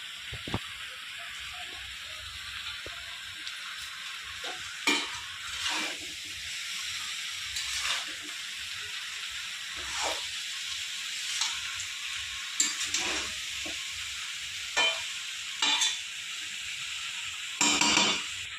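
Malabar spinach frying with a fish head in a pan gives a steady close sizzle, broken by repeated scraping stirs at irregular intervals, with no voices.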